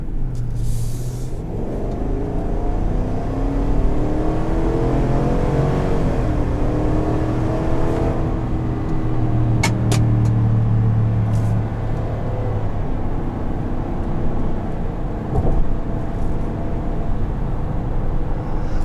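A 2021 Chevrolet Tahoe LT accelerates on the road, its engine note rising in smooth, climbing tones and then settling into a steady drone from inside the cabin, with no talk.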